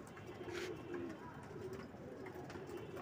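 Pigeons cooing in a loft, soft low repeated coos over a murky background, faint and close.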